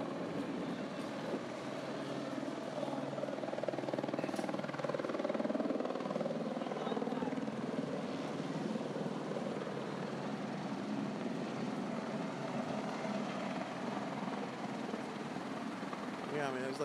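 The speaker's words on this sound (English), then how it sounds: "then there's a Department of Homeland Security chopper" A Department of Homeland Security helicopter hovers over the US–Mexico border near a migrant camp in Tijuana, its steady distant rotor drone continuous beneath people talking.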